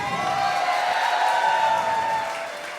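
A live concert crowd in a New York hall cheers and applauds a big band's drummer, a dense, steady roar that holds for a few seconds and then eases slightly at the end.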